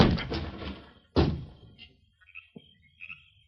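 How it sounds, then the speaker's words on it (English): A door kicked open as a radio drama sound effect: two heavy thuds and a crash of wood, followed by faint creaks and small knocks in an otherwise quiet room. "I'll kick open the door."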